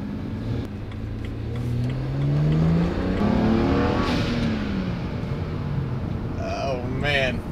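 BMW 335i accelerating hard in fifth gear under turbo boost, engine note rising steadily and loud from inside the cabin, with people talking briefly toward the end.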